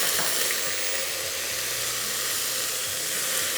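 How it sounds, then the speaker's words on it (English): Ginger and garlic paste sizzles loudly in hot oil with cumin seeds in a pan, a steady close frying hiss with faint clinks and stirring underneath, no voices. "To this, I'm going to add a teaspoon of cumin seeds, and then I'm pouring in my ginger and garlic paste"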